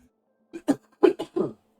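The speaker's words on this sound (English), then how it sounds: "At least now it's a productive cough." A short series of about four raspy coughs in quick succession, close and fairly loud, with nothing else around them.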